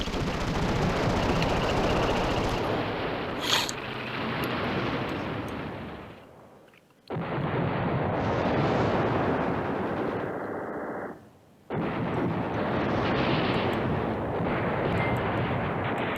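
Explosions and gunfire from an airstrike in the Command Ops 2 war game. The rumbling barrage is dense and loud, breaking off twice into short near-silent gaps before resuming.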